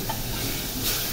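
Olive oil and garlic sizzle in a pan before rice is sautéed in a home kitchen, a soft, steady hiss that is fairly faint and continuous, with no voices.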